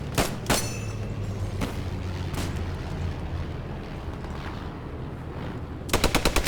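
Gunfire in the tactical shooter Post Scriptum: loud bursts of shots open the scene, single cracks follow over a steady roar of distant battle, and a rapid automatic burst closes it.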